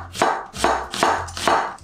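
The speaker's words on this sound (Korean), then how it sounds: "양파는 1/2 쪽 2개만 넣겠습니다. 그리고 얇게 채 썰어주세요." A knife slices onion thinly on a cutting board in four loud, evenly spaced chops about half a second apart, each a sharp thud with a short slicing rasp, heard close and alone.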